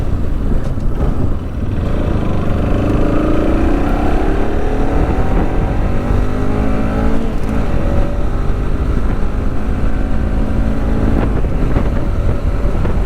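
A Bajaj Pulsar RS200 motorcycle climbs a slope with a loud, steady engine drone whose pitch rises and falls slightly, mixed with constant wind rush from riding, and no talk.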